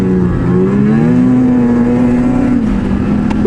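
A snowmobile accelerates with a strong low-end pull, its engine holding a steady, loud drone that climbs slightly in pitch, close to the listener with no talk.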